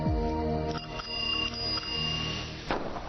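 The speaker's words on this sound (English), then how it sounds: "At the foot of the hill, I rang the bell" A bicycle bell rings loud and close, a bright metallic trill that decays over about a second, followed by a second sharper ring near the end.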